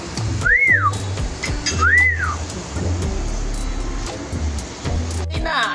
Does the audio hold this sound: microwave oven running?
no